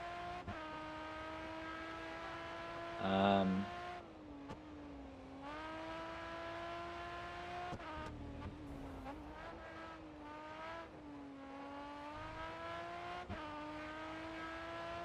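Race car engine in GRID Autosport, a Chevy in an endurance race at the Algarve circuit, holds a steady high whine that rises and dips through gear changes and corners, with a brief loud bump and tire noise midway.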